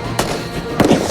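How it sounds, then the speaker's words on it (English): Two sharp, loud gunshot cracks ring out in an audio drama, spaced under a second apart over a faint hissing background. "Gunfire began to rain down upon them."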